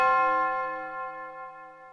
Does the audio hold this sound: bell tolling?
yes